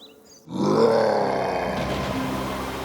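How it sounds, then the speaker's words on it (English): A deep, loud roar of the Beast from a Beauty and the Beast fairy tale bursts in after a brief quiet and sustains for over two seconds, growling and slowly fading, alone without speech. "At that moment, a very strong roar was heard."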